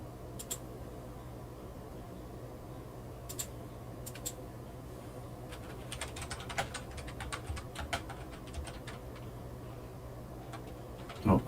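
Computer keyboard typing comes through as quiet, irregular bursts of key clicks over a steady low hum, busiest near the middle, with no talking.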